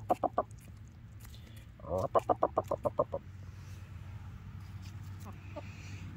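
Chickens eating yellow jacket wasp larvae give rapid bursts of close clucking, a quick series at the start and a longer run in the middle, then faint scattered clucks over low background hum.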